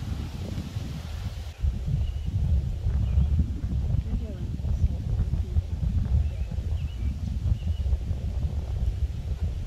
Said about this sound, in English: All nice and windy over here.